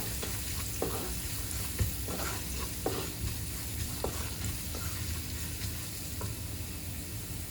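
Asafoetida sizzles in hot oil in a pan while pongal is being made, a constant dense frying hiss with scattered light clicks and taps of a utensil, close and with no talking.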